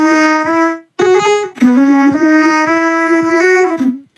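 A chopped vocal sample pattern played on a MIDI keyboard for a moombahton track: pitched, clipped vocal notes in a bouncy rhythmic phrase with brief gaps, loud and up front, no talking.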